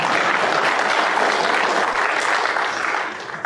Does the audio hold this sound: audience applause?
yes